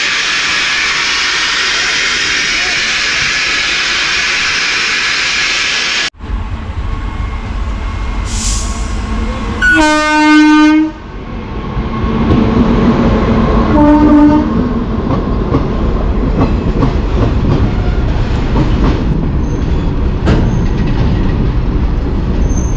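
A Poorabiya Express train stands halted after an emergency chain pull, with steady rumbling ambience and a loud, stepped train horn blast sounding near the middle, followed by a shorter second horn call.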